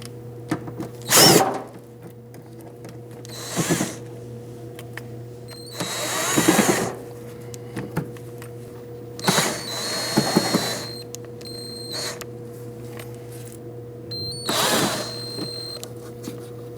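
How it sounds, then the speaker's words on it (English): A power tool backs out T25 screws from the rear fender liner of a 2009–2017 Audi Q5. Five short, loud whirring bursts are separated by quiet pauses, with faint clicks between them. "now we have 4 T25 screws to take off"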